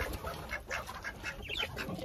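Several ducks quack in short, scattered bursts at a moderate distance, soft and irregular against quiet background noise.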